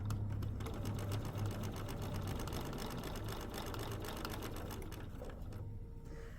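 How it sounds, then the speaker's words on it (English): A sewing machine stitches quilt binding strips in one steady continuous whir with a rapid needle rhythm, close and even throughout. "So I'm just sewing right across."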